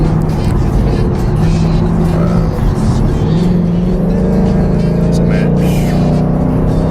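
A Ford Mustang accelerating from inside the cabin, a loud, continuous engine roar with a rising whir and road noise that stays steady throughout.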